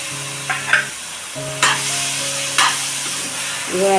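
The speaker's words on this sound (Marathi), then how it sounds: "काटलं चांगली मी अशी परतून घेते" Kantola (spiny gourd) sizzles as it is sautéed in oil with masala. Several sharp spoon scrapes from stirring sound close by, a steady tonal hum runs underneath, and no one talks.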